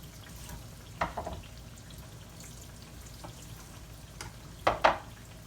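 Tomatoes and yellow squash fry in a cast iron skillet with a steady low sizzle, broken by a few short louder crackles and spatters, no talking.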